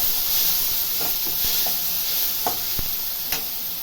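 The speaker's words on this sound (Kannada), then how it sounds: "ಇವಾಗ ಟೊಮೆಟೊ ಹಾಕ್ತಾಯಿದ್ದೀನಿ ಇದೊಂದು ಸೆಕೆಂಡ್ ಫ್ರೈ ಆಗಬೇಕು" Onion and tomato fry in a pan for Maggi masala noodles, giving a steady close sizzle and hiss with a few sharp clicks and scrapes of stirring.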